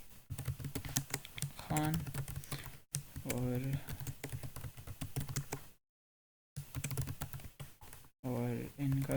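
Rapid clicks from a computer keyboard come in quick bursts with brief gaps between them, close and crisp, while someone talks over the typing.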